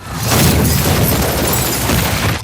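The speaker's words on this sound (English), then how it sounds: "Jack triggers an emergency explosion to cover their escape" An emergency explosion in an action thriller film erupts as a loud, deep, sustained blast that rumbles and roars for about two seconds before cutting off, with no voices.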